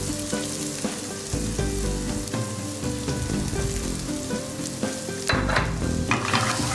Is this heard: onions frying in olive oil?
yes